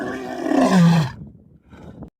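A real lion gives one loud, rough, close roar that swells and then fades, followed by a short, fainter grunt.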